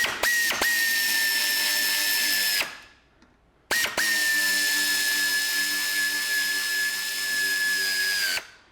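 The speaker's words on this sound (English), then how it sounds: "I'm just going to shoot them with the air gun just a little bit" A pneumatic air gun drives bolts on a Ford Transit Connect gearbox during a clutch replacement, whining in two long steady bursts, a short blip, then a pause before the second run, loud and close.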